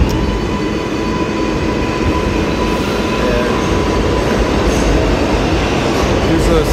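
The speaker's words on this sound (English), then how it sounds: "These are the 7 trains." A New York City subway 7 train runs through the 42nd Street–Bryant Park station toward Hudson Yards, a loud continuous rumble and roar of wheels on rails that stays steady and close throughout.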